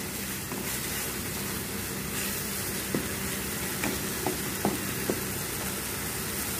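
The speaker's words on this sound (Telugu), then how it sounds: "పసుపు వేసి బాగా వేయించుకుందాం పచ్చివాసన అంతా పోయే విధంగా బాగా కలుపుకుంటూ వేయించుకుందాము" Masala with turmeric frying in a pan while being stirred, a steady close sizzle with a few soft scrapes of the spoon, no talking.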